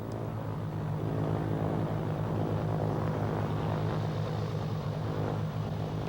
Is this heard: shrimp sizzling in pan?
no